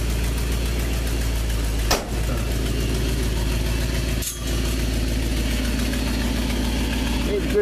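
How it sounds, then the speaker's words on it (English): A 1974 Ford F250 pickup truck engine idles steadily on a cold start with a low rumbling drone throughout, broken by two brief thumps. "Here's a good picture of the engine running."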